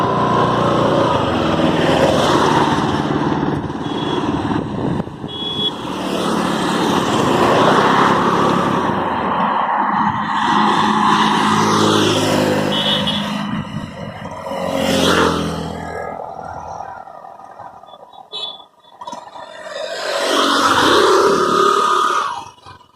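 A car engine hums and revs steadily while driving and making a U-turn on a road, loud and continuous, rising and dipping as the car turns.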